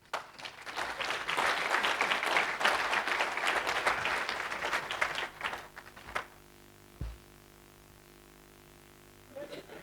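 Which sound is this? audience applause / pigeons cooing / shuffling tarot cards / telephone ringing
audience applause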